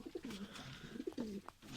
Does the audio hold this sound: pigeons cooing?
yes